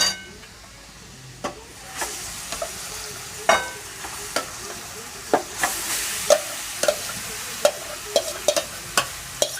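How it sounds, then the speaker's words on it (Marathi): Tender jackfruit is stirred and sautéed in oil with reddened onion and asafoetida. Repeated spatula scrapes and knocks on the pan come in a loose rhythm over a soft sizzle, close up, with no voices. "छान मिक्स करून घेते तेलामध्ये परतून"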